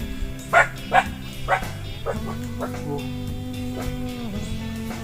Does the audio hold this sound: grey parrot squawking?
no